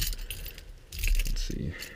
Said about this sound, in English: I have a million keys on this key ring.